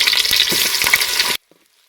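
Onions and coriander stems hit hot oil with a loud, dense sizzle and spatter that cuts off abruptly, leaving near silence.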